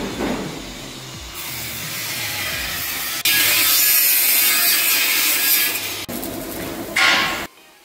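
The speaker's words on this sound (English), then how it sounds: "After welding, all the gaps are being filled and smoothened through grinding for a clean" A grinder smooths the welded gaps on a metal bus front panel during a fiber-to-metal rebuild, producing a loud continuous abrasive roar that surges and shifts in pitch before cutting off near the end.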